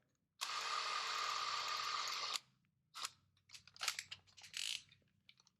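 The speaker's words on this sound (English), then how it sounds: "now we're going to use the 1/4-inch drill to go all the way through." A power drill with a 1/4-inch bit whines steadily for about two seconds at close range, drilling through metal, then stops. Scattered clicks and rattles follow.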